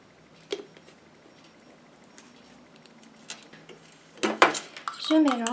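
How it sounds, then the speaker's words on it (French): A homemade facial toner with vitamin E drops is stirred in a small container, producing light clinks and scrapes of a utensil against the vessel, faint at first and then busier, with a voice talking at the end. "Je mélange."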